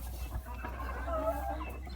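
Fighting-cock hens cluck at a farm, a few soft nearby clucks over a steady low background hum, with no one speaking.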